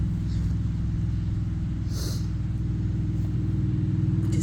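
Cars pass on a nearby road, a loud, steady low engine rumble that continues throughout with no letup and no talking.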